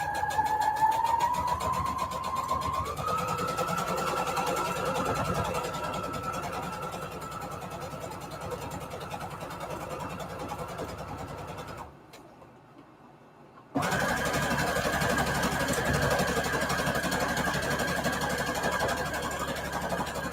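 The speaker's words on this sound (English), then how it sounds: "That's why I'm sewing down the sides." A sewing machine whirs steadily while stitching down the sides of a paper ribbon, its motor hum running continuously, briefly cutting out near the end, then resuming at the same close, even pitch.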